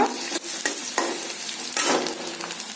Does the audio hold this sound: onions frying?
yes